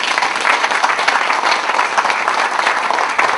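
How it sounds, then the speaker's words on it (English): A crowd at a groundbreaking ceremony applauds steadily, dense clapping that stays loud and even throughout. "Please give them a round of applause."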